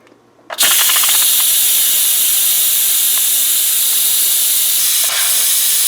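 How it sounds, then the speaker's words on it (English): An Instant Pot pressure cooker's release valve opens with a sudden loud blast of steam that settles into a steady, forceful hiss lasting several seconds, close and alone. "Now all we do on this new button is press down and it releases the valve."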